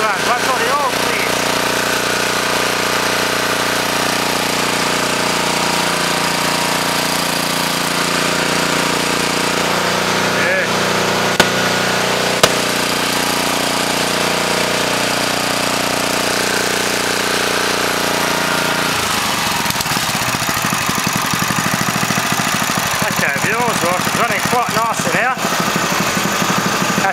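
A Honda GX140 small engine on an air compressor runs steadily after an oil service, giving a loud, continuous droning rumble for the full stretch with only slight changes in tone near the end.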